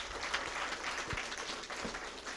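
A lecture audience applauds the speaker at the end of a talk on peaceful unification, a faint, distant patter of clapping across the room.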